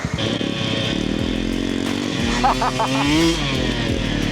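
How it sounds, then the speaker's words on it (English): A Honda XR600 dirt bike runs nearby with a steady, loud engine drone that rises and falls as it is ridden, with a short revving surge midway and some faint talk underneath. "Ben's out here on his XR 600"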